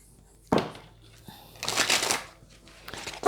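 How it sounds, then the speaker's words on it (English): Oracle cards being shuffled by hand, close up, in a few quick riffling bursts with brief pauses between them. "Let me just supplement this with the Hidden Truth Oracle."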